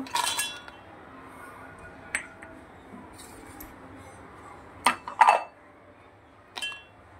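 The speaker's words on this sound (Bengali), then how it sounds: "কটা কাজু আর আমন্ডস আমি একটু গুঁড়ো করে নেব" Cashews and almonds being ground into powder in a home kitchen, heard as scattered clinks and sharp metallic rattles in a few short bursts separated by quiet gaps.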